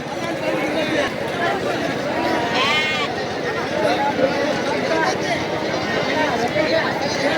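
Lambs bleat repeatedly at a busy baby-sheep market, their cries rising out of a dense crowd din with hoof clatter and people talking nearby.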